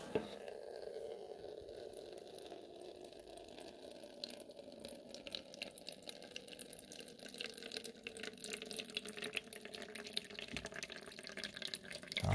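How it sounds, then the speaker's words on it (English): Water runs and splashes steadily from a home radiator being drained after earlier black sludge and air, a close, continuous wet gush with small drips throughout and no talking. "Oh, I've got water now, alright."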